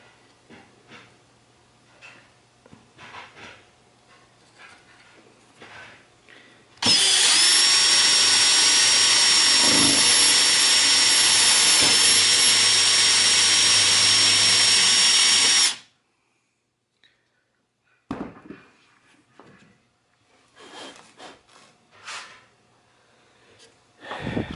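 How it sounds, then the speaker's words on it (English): A power drill with a 1/4-inch bit whines steadily for about nine seconds as it bores through a wooden corner brace into a leg, with quiet tool handling and clicks before and after. "drill down through the corner brace into the actual leg."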